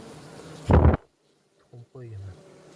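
Worker honeybees on an open hive frame give a brief loud burst of buzzing up close, then silence followed by short voiced sounds.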